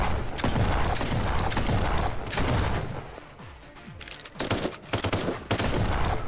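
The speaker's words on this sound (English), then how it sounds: "They're grenading my position, but not smart enough for me" Gunfire and grenade blasts in the video game Kinki Spiritual Affairs Bureau, loud rapid bursts of shots that break off briefly mid-way and then come back in sharp repeated volleys, with no speech.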